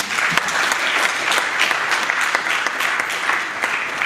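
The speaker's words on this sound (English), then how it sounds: "Let's show him a round of applause, please." An audience at a public lecture applauds steadily, a dense wash of clapping hands filling the room at full volume throughout.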